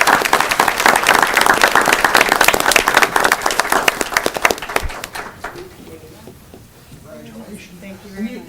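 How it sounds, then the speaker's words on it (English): A council meeting audience breaks into loud applause for an honoree, dense clapping for about five seconds before it quickly dies away into quieter room murmur. "Let's give her a very nice round of applause"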